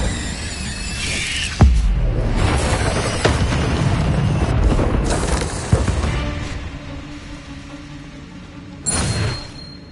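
Fire spell cast in Hogwarts Legacy: a dense whooshing, crackling roar with sharp bursts and booms at intervals, loud and sustained throughout, ending with a brief bright flare.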